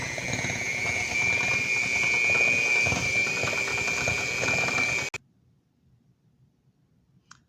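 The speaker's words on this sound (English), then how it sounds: "in a larger bowl, to mix together the butter and sugar on medium speed" An electric hand mixer beats room-temperature butter and sugar at medium speed in a large bowl, a steady loud whirring drone for about five seconds that cuts off abruptly, leaving near silence.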